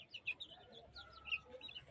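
Laying hens, including a Thani breed, cluck and chirp faintly in quick, scattered bursts, close but quiet.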